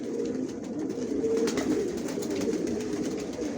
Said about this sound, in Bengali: আমার লফটে সব লংয়ের কবুতর পালি